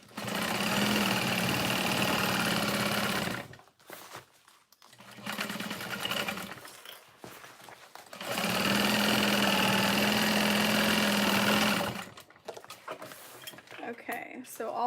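A sewing machine runs in two long, steady bursts while back-stitching over the darts of a waterproof fold-over bag lining, with a short pause between bursts and quieter handling sounds after.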